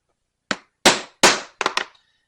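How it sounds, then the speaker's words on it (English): Five sharp punching strikes through leather backpack straps for rivet holes, the first three evenly spaced and the last two in a quick double, each a crisp close smack with a short decay in a quiet room. "I'm just going to go ahead and punch them through"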